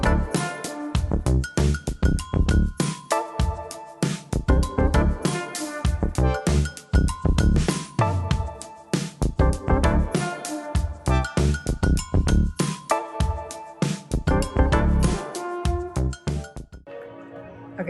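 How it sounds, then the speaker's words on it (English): Cathedral bells peal through the streets of Strasbourg, France, with many loud overlapping clangs that ring on in a dense, continuous stream for nearly twenty seconds, then stop abruptly. "you can hear all the bells from the cathedrals going off."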